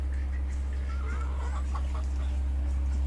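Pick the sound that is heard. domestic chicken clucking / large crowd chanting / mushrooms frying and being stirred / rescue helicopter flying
domestic chicken clucking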